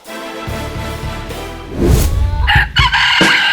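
A Dong Tao rooster crows loudly and close by, a long drawn-out call followed by a few clucks and squawks.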